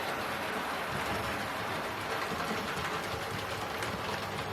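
A Hornby model railway locomotive running on track, a continuous close whirring hum with a faint rapid mechanical rattle, steady and even throughout.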